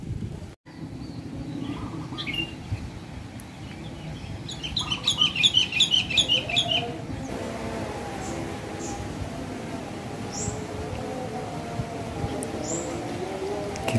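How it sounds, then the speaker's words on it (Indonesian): A wild sooty-headed bulbul calls from close by in a garden, with a quick burst of bright chirps partway through and two short isolated notes later, over a steady rustling background. "burungnya di samping kita ya, yang kutilang liarnya"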